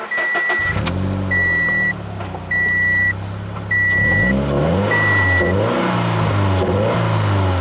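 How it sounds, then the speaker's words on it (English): A 2017 Toyota 86 with a manual gearbox and TRD Sport exhaust cranks, fires up and settles into a steady idle, then revs up and down several times, loud and close, with a repeating electronic chime over it. "Put the clutch in and then turn the key to start it up."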